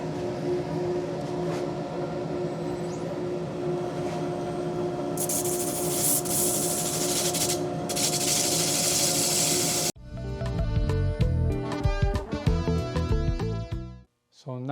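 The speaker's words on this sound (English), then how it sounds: "now that we've finished the sanding" A lathe motor hums steadily as abrasive paper rasps against a spinning segmented wooden bowl, the scratchy sanding swelling mid-way, then giving way to clattering knocks.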